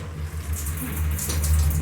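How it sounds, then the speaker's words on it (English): Shower water running in an Amtrak train's shower compartment, a steady close hiss and splash of spray that swells louder toward the end, with no talking. "I'm going to test the water pressure."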